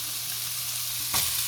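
Onion sizzles in hot beef oil in a pot, a steady close hiss with a brief louder crackle burst near the end and no talk.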